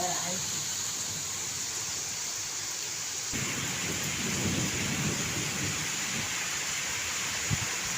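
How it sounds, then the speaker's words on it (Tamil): Heavy rain pours steadily on an evening in France, a dense continuous hiss with thunder rumbling low underneath and a sharper crack near the end. "இருக்க இருக்க பெரிய மழையாக பேஞ்சு கொண்டு இருக்கிறது"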